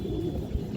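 A Road Master pigeon, a breed with red-speckled eyes, gives low cooing under a steady background murmur. The sound is brief and close.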